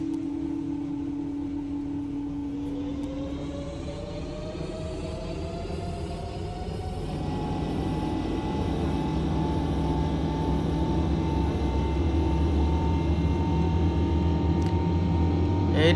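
A POSKY Boeing 777 airliner spools up for takeoff in the flight simulator FSX, a steady loud jet roar rising in pitch and intensity as thrust builds, with a sustained whine layered over a broad rumble throughout.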